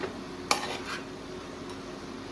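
A spoon scrapes once against a pot while a cooking dish is mixed, one sharp clack followed by a brief softer scrape over a low steady sizzle, close by with no talking.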